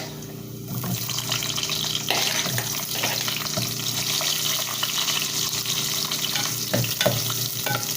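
Onion going into garlic already browning in a hot pan, with a steady close sizzle and frying crackle and a few stirring scrapes throughout.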